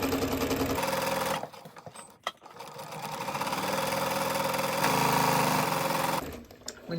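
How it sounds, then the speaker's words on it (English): A home sewing machine stitches around the seams of a scrap-fabric drawstring bag, running in a steady mechanical whir, stopping briefly around the corner, then running on and pausing again near the end. "I'm just going to sew all the way around"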